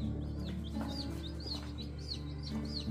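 Newly hatched chicks in an incubator peep in quick, repeated high chirps, fairly soft over a constant low hum.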